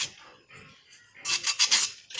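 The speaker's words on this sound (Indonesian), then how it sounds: "kemudian kita haluskan dengan amplas" Faint light rubbing at first, then a burst of several quick, harsh rasping strokes of sandpaper on ceramic up close.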